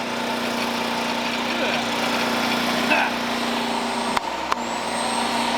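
A generator engine runs with a steady, droning hum throughout, close by, with two sharp clicks near the end.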